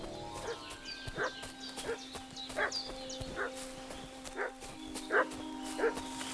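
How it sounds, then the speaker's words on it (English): Dog barking in the medieval game Kingdom Come Deliverance 2, a string of sharp barks repeating roughly every second at mid distance over a steady ambient hum, with no speech. "What's that dog making such a fuss about?"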